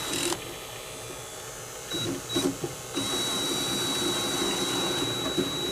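A vacuum pump runs steadily while evacuating a York gas package air conditioning system, giving a constant mechanical drone with a thin high whine and a few brief interruptions.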